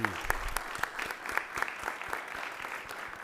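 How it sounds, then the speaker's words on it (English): A council meeting audience claps together, a dense run of sharp, overlapping hand claps that stays fairly close and even before slowly thinning out. "Let's give those folks a round of applause."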